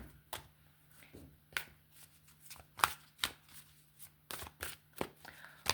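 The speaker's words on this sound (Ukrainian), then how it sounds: "Інколи карти тасуються довго, інколи швидко" Tarot cards are shuffled in quick irregular bursts of crisp riffling and slapping, close and fairly quiet, with brief pauses between.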